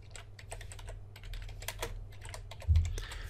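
Keys clatter on a computer keyboard in quick, irregular bursts of close, fairly quiet taps, with one heavier thump near the end.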